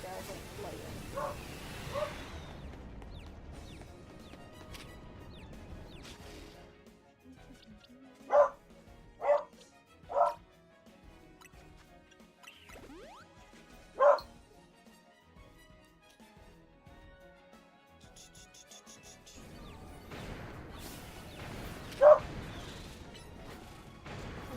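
A female dog barks in a handful of sharp, separate bursts spread through a fairly quiet indoor scene, with some low rustling and faint voices before and after.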